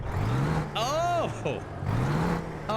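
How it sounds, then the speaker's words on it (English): Heavy 550-horsepower truck with an 18-speed transmission in American Truck Simulator, its engine droning steadily with rising and falling revs, a loud low rumble carried under overlapping talk. "Everybody be quiet so that way we can hear this engine roar."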